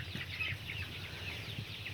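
Sonali chickens on a poultry farm give soft clucks and brief calls, faint and a little distant, over a low steady background.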